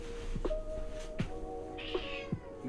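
A house cat meows close by, four or five short, rising and falling cries spread evenly over a few seconds, with no one talking.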